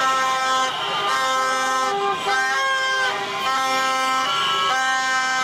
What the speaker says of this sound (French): C'est dans un concert de vuvuzela, de klaxons et de danse que les supporters accueillent les vainqueurs de la CAN 2023.